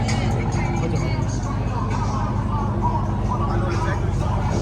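A car engine revving at an outdoor car meet, a low rumbling motor under steady nearby chatter and background crowd noise.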